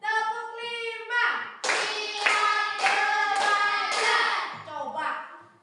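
Five sharp, evenly spaced claps from a group playing a classroom icebreaker clapping game, with children's voices chanting before and trailing off after.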